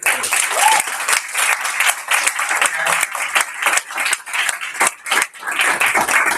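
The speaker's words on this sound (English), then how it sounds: "So without further ado, let's give Bart a round of applause." Loud, close audience applause at a live Beachbody Saturday morning training event, dense clapping that swells and dips in waves for several seconds.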